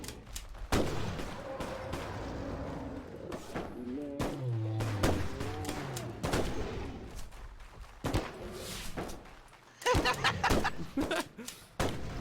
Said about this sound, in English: Nothing like shooting while sprinting.